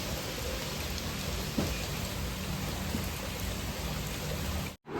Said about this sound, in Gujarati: થોડો થોડો વરસાદ જો ધીરો ધીરો ધીરો ધીરો ચાલુ છે